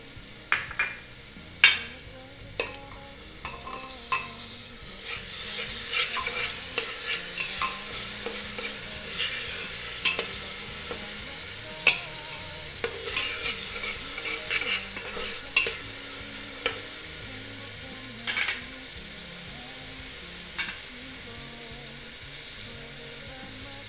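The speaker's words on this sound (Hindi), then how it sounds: "अब हम इसमें हरी मिर्च लहसुन का पेस्ट डालेंगे।" Green chili garlic paste fries with browned onions in a pan, a soft steady sizzle broken by frequent scrapes and clinks of a spoon stirring against the metal, with no voices.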